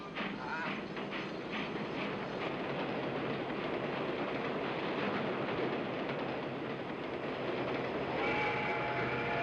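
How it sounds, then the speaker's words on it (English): A train pulls out of the station in a 1930s western, a steady rumbling roll with clattering wheels and a brief whistle-like tone near the end, while voices talk over it. "this train pulls out right now"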